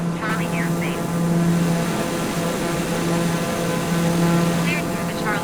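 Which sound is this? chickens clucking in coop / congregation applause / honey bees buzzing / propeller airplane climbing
propeller airplane climbing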